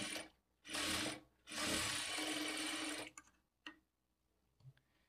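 A sewing machine stitches the folded edge of blouse fabric in two mechanical bursts, the second longer, followed by a few faint clicks and handling sounds, close and loud with no speech.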